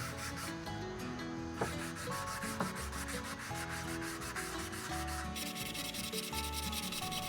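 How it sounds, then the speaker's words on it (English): Steady rhythmic rubbing of sandpaper by hand on the edges of a wooden cutting board, close and continuous, with repeated back-and-forth strokes and no talking. "The first pass of sanding on the edges, I just hand sand it."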